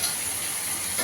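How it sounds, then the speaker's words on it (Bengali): Ground cumin, coriander and Kashmiri chilli powder sizzle in hot oil in a pan while cooking pointed gourd with prawns, a steady close hiss with no voices. "মশলাটাকে ভালো করে কষিয়ে দেবো"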